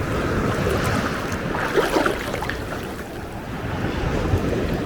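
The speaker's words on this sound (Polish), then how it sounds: "No, jakieś tam fale są, nie za duże, ale są." Moderate sea waves wash steadily onto a clear-water beach on the Bulgarian coast, a continuous broad surf roar with wind noise, no voices.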